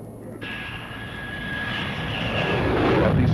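A military bomber or tanker returning to base roars overhead, its engine drone building steadily louder over a few seconds with a thin whining tone on top and no voices.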